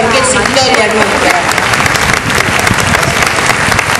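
Applause from an audience at a civic ceremony marking the 125th anniversary of Campana, a dense, loud wash of clapping that carries steadily throughout, with voices faintly mixed in beneath it.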